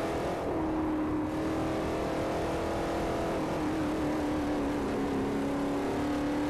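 Ford Pinto engine in Forza Motorsport 4, a steady droning hum held at constant revs with a rising whine partway through, loud and close under continuous road noise.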